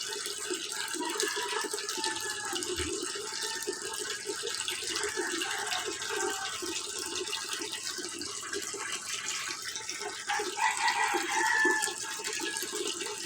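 Water pump running in a backyard tilapia tank, a steady broadband rush and splash of flowing water that swells slightly toward the end, with no talking.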